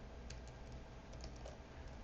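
Computer keyboard keys tapped at a steady, moderate pace while a web search is entered, a run of light clicks that stays close and fairly quiet, with no voices.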